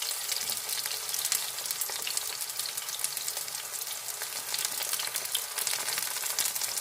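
Summer porcini mushrooms searing in very hot oil in a pan that is too small for them, a loud, dense, continuous sizzle and crackle running throughout with no voices.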